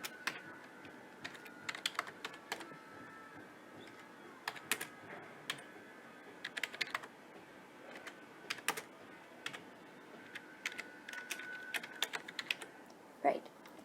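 Python code being typed on a computer keyboard, with quiet, close clusters of key clicks in short bursts separated by pauses.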